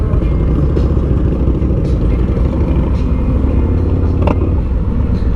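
A Harley-Davidson motorcycle engine with a rubber-mounted motor and a shake at idle, a loud, close, continuous low rumble with faint clatter and no clear speech.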